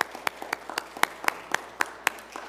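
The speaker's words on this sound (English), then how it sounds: "I think we need to give them a round of applause." A church congregation claps for the mothers in a sparse, fairly close pattern of distinct, separate claps that sound more like scattered hands than a full ovation.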